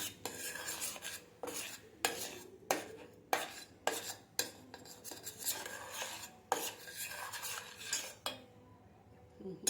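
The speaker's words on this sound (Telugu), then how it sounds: "ఇది పిండిలో వేసుకొని బాగా కలుపుకోవాలి" Melted jaggery being mixed into flour in a metal pot for sajja burelu, heard as repeated rhythmic scraping and clinking strokes of a spoon against the pot, close-up and without speech.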